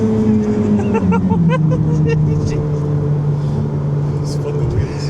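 A Ferrari is accelerating hard under full throttle with its wheels spinning, giving a loud, steady engine roar heard from inside the car while people talk over it.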